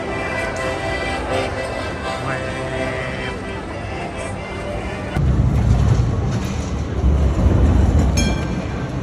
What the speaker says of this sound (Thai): ใช่รถไฟทุกคันจอดที่นี่ฮะ